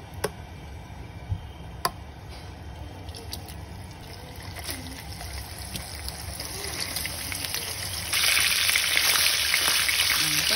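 Luncheon meat frying in hot oil in a pan, a steady close sizzle with scattered ticks and pops that grows louder and brighter toward the end, no talking.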